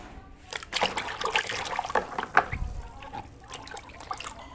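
Toy figures, dinosaurs and toy vehicles drop one by one into a basin of water, producing a series of close splashes, sloshes and trickles at an irregular rhythm.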